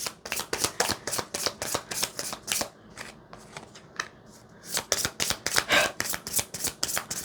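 A deck of tarot cards being shuffled up close, with rapid crisp riffling and flapping bursts. A brief quieter pause in the middle gives way to another fast run of shuffling.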